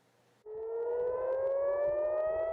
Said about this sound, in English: sirens sound in Tel Aviv